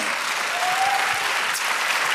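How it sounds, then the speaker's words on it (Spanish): A church congregation applauds during a Spanish-language jubilee worship service in Poughkeepsie, New York, a steady, dense wash of clapping filling the room without a break. "Da un aplauso al Señor"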